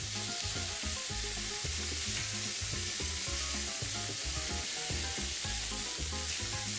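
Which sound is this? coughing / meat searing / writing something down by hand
meat searing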